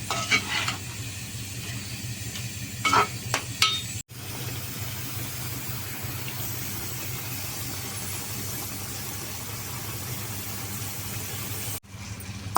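Chicken curry made with curd is stirred in a pan, giving a steady, close sizzle with a few scraping stirs of the spoon near the start.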